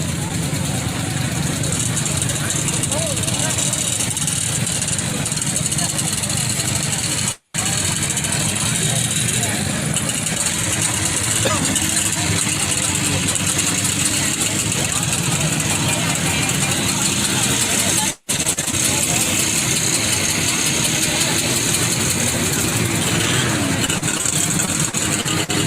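A 1970 Playcat vintage snowmobile engine idles at an outdoor vintage snowmobile rally, a steady close rumble running continuously with broadband noise, while people talk over it.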